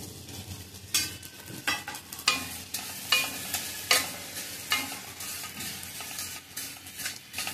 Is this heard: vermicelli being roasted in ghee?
yes